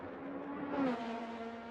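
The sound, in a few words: race car driving in Assetto Corsa racing video game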